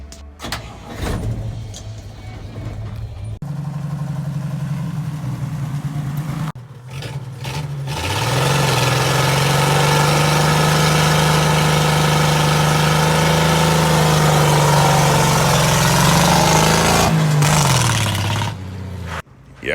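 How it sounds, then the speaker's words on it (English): A 1968 Dodge D100 pickup with bad brakes starts and idles roughly, then revs hard into a sustained loud, droning hold as it tries a burnout before the throttle drops off; close and alone, no talking. "Will she do a burnout?"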